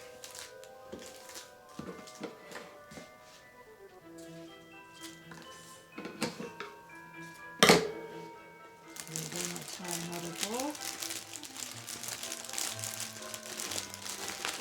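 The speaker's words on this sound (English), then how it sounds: "Oh, I just love cellophane. It's so pretty and crinkly and much nicer than regular plastic." Cellophane gift wrap crinkling around Christmas cookies as it is gathered and tied, with scattered crisp crackles, one sharp loud crunch, then a steady rustle, while music plays beneath.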